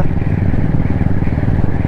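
A broken-down motorcycle's engine rumbles low and close, a steady throbbing idle with a slight rattle running throughout.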